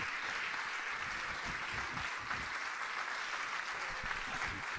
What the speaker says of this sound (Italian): Meritato questo applauso per il maestro